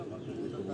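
Pigeons coo softly in a brief, low, steady murmur, faint and close by.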